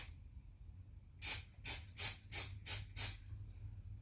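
Six short hissing bursts of spray paint go onto BMW E30 fuel injectors in an even rhythm, close and fairly quiet against a low background hum.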